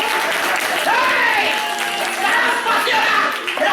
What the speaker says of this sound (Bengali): দর্শকরা আমার একটা হাততালি দাও, আমার একটা হাততালি দাও